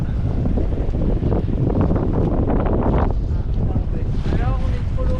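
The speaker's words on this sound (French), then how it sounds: "Attention, il y a une rafale." A gust of wind buffets a sailboat, roaring steadily over the microphone with water and hull noise beneath, while people talk briefly near the end.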